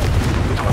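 Short blasting boom as a Confringo spell goes off in Hogwarts Legacy, a single muffled low burst over a dense game soundscape.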